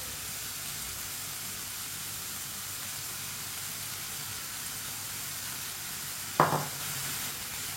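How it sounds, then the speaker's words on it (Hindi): Masoor dal soaked ten minutes earlier being cooked with a spoon in the pan, a soft steady sizzle and hiss throughout, with one brief louder scrape or clink of the spoon near the end. "अच्छी तरह मिक्स करके 2 मिनट के लिए पका लेंगे चम्मच चलाते हुए"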